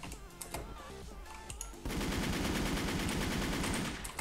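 Rapid automatic gunfire in a first-person shooter game, sparse shots at first, then a dense, continuous burst of loud fire for over two seconds before easing off.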